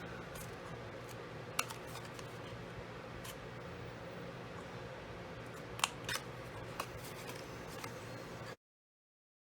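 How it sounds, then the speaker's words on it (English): Scissors snip small paper tabs while a Cricut glitter pop box is assembled, a few sharp isolated cuts over a steady low room hum, close by with no talking. "I like to snip just on these 6 tabs, snip the sides off a little"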